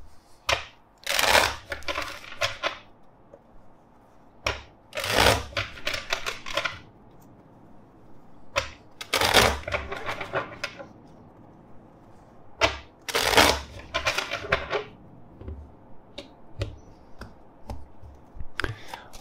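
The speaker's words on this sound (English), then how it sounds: "Let's shuffle the deck." A deck of tarot cards is shuffled close by in bursts of crisp riffling and flapping, several separate rounds with short pauses in between, with no talking.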